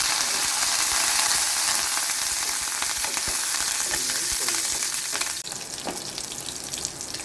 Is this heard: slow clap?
no